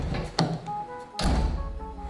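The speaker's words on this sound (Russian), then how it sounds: "Дверь легко открывается, закрывается" A car door on a rare car restored after a crash shuts with soft, dull thuds, two separate closing knocks heard close over a low background hum.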